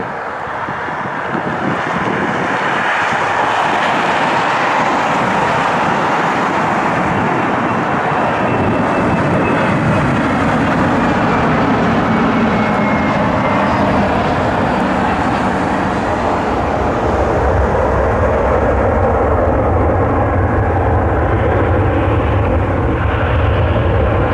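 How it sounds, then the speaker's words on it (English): A Piedmont Embraer E145 regional jet arriving from Philadelphia, a steady broad roar of jet engine noise sustained throughout, fairly loud and close with some wind buffeting on the microphone. "Piedmont 6142. It's an E145 inbound from Philadelphia."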